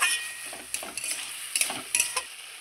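Mixed vegetables and spices being stirred and sautéed in a little water in a pan for a vegetarian Bengali five-vegetable dish, with soft sizzling and a series of scraping and clinking spoon strokes against the pan.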